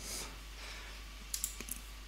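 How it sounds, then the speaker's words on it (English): A computer mouse double-clicks during image editing work, two quick faint clicks followed by a few more soft clicks, close and quiet over low room hiss. "double click"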